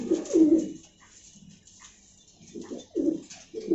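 Giribaz pigeons cooing at a pigeon farm in Badda, Dhaka: low, throaty coos come in several close, repeated bursts with quieter gaps between them.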